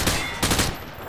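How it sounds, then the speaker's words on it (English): Hip-fire gunfire in Call of Duty Modern Warfare 2, a dense, loud burst of rapid shots packed into about a second. "He sprayed bullets all over the damn place."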